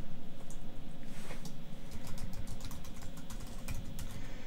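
Typing on a computer keyboard, a steady close patter of light key clicks with occasional sharper taps over faint background hum.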